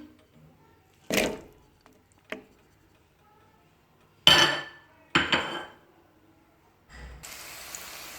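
Chopped onions go into two tablespoons of hot oil in a pan for a masala: a few clinks and clatters of utensils, then a steady hissing sizzle rises at the end.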